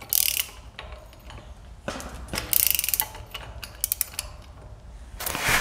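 A ratchet clicks in quick bursts while tightening bolts on a Polar golf cart trailer rated for 1,400 pounds, the clicking loud and close with short pauses between runs.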